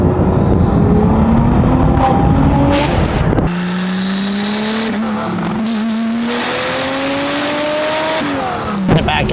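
A Porsche 935 turbo engine revs hard and accelerates up through the gears, loud and close, its rising pitch climbing steadily with a short break at a shift.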